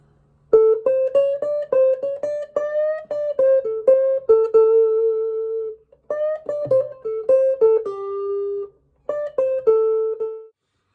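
Electric blues guitar lick in second position, Chicago blues style, a run of clean single picked notes in quick phrases with brief pauses, close and fairly loud, played alone without talk.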